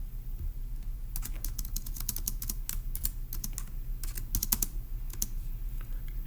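Typing on a computer keyboard, close, light clicking keystrokes in irregular quick bursts with short pauses, over a steady low background hum.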